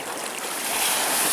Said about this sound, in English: Oh yeah, these are some good waves.